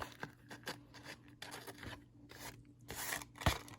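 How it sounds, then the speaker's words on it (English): Safety scissors snip through an index card in a series of crisp, quiet cuts with irregular rhythm, close by, with no speech. "So let me cut this real quick."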